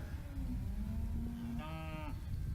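Cattle being led across a yard to a water trough, one clear drawn-out moo rising near the end over steady outdoor rumble and shuffling.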